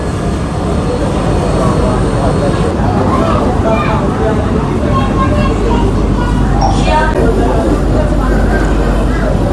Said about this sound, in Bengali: ট্রেন এখন টিটাগড় বেরোচ্ছে